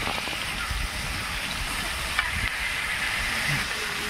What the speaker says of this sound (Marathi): तव्यावर तेल तापलेलं आहे. आता हे आपण तव्यात ठेवून घेऊ भाजण्यासाठी.